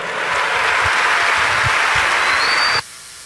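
Large crowd at a national catechetical gathering in Durango applauding loudly for an archbishop, a dense, continuous roar of clapping that cuts off abruptly near the end.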